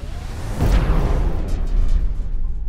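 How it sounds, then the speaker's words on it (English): A sci-fi explosion rumbles out as a loud, sustained roar with a whooshing burst near the start, then a long, steady low rumble that gradually thins out. "The explosion is imminent."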